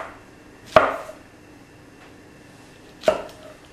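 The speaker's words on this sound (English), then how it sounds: "we're going to cut them on a slant like this" A knife chops vegetables on a slant against a cutting board, two crisp separate thunks about two seconds apart, close and isolated with quiet between.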